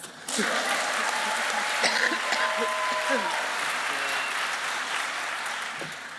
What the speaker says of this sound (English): Stephanie, sorry, round of applause again.